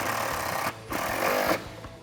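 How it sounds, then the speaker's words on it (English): A 10mm socket drives a factory bolt tight on a 2015-2017 Mustang GT during a cold air intake install, giving loud, close, rapid rattling bursts with a brief pause between them and no talk. "grab a 10mm socket, and then tighten it down"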